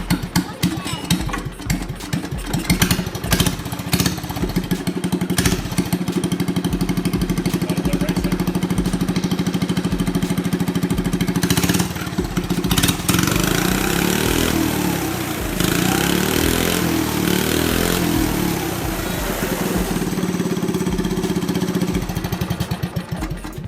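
A modded ZR120 engine is choked, started and left idling with a loud, uneven, throbbing run close by, sputtering and settling throughout, with some voice under it.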